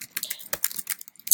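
Quick bursts of clicking keystrokes on a computer keyboard, close and fairly soft, tapped in an uneven rapid run as a short phrase is typed.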